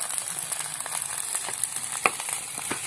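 Nasi goreng fries in oil in a pan, giving a steady close sizzle and hiss broken by sharp clicks and scrapes from stirring, with no talk.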